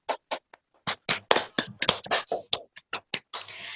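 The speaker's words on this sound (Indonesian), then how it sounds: "tepuk tangan." A small group of facilitators applauds elderly participants during an activity therapy session, giving close, scattered, irregular claps rather than a dense roar.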